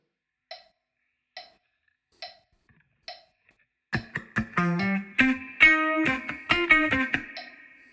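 An electric guitar plays a part from a song: four soft, evenly spaced muted ticks come first, then a funky burst of clipped, rhythmic chord stabs and short single notes, clean and close.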